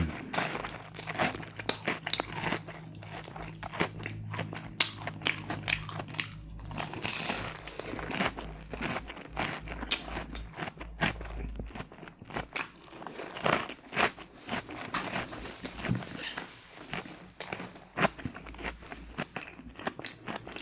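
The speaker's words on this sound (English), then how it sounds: "Try a piece of this nice crunchy garlic bread." Crisp crunchy garlic bread bitten and chewed close up, a run of crackling crunches with short pauses between bites.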